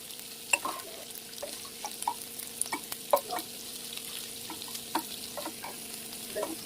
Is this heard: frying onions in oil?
yes